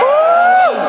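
A crowd at a card duel lets out a brief, loud whoop that swells and then drops off sharply, lasting under a second.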